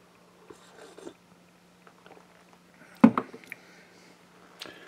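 Dry food from a US military MRE with peanut butter is chewed close up, with soft scattered mouth sounds and one sharp crunchy bite in the middle, faint and with no speech.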